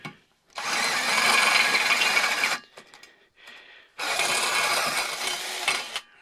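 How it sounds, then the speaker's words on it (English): A step drill bit cuts through metal while hardware for a bus seat swivel is being made: two loud, grinding bursts of about two seconds each, separated by a short pause with faint handling noise. "So we'll go one more notch on the stepper bit."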